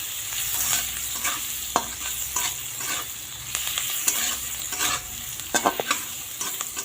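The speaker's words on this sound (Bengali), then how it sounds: "পেঁয়াজটা লাল লাল করে ভেজে নিয়ে তারপর মশলাটা এর মধ্যে ঢেলে দেবো" Onion fries with turmeric in a pan while pointed gourd is prepared, giving a continuous close sizzle broken by frequent scraping stir strokes and light clinks, with no talking.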